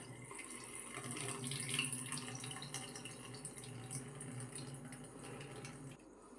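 Water running from a tap while soaked poha, flattened rice, is rinsed, a soft steady splashing and trickle that carries on evenly, then cuts off near the end, faint and close.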